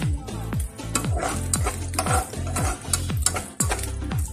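Garlic browns in a pan for Filipino tapsilog, a steady close sizzle broken by repeated clinks and scrapes of a utensil stirring against the pan.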